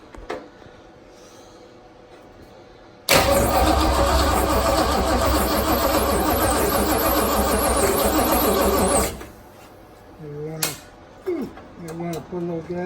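A car in a garage cranks and fires up, roaring loudly for several seconds before cutting off, followed by brief clanks and voices talking nearby.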